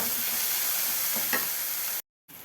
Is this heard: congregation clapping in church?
no